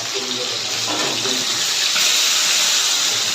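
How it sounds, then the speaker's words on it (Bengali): Spiced pomfret fish frying in a pan in Puri, giving a loud, steady, hissing sizzle that runs the whole time with faint voices in the background. "এই মাছটা ভাজার জন্য পুরো মশলা দিয়ে মাখিয়ে নিয়েছি, এবার ভাজা করবো"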